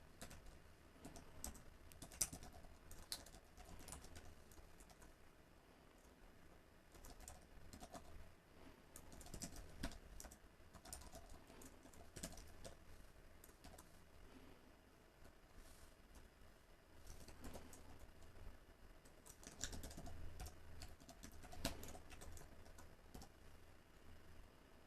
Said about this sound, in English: And to do this we just type public void